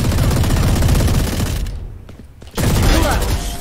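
Rapid gunfire in Valorant pounds loud and close in a sustained burst, breaks off for under a second, then resumes just as hard, with faint speech mixed underneath.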